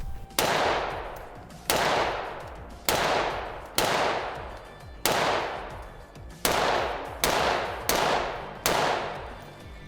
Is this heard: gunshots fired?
yes